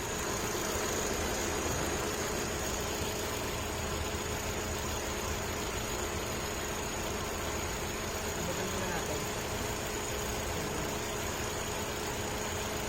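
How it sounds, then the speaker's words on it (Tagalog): A Ford car engine idling, a steady low rumble with a constant whine layered above it, fairly faint and unbroken throughout. "O, tama yung tunog ng engine."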